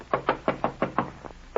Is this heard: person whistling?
no